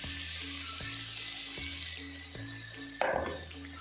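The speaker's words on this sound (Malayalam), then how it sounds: "നന്നായിട്ട് വഴറ്റിയെടുക്കാം" Vegetables sautéing in a pan for Kerala-style crispy vegetable cutlets, a steady quiet sizzle with soft stirring scrapes and a small clatter near the end.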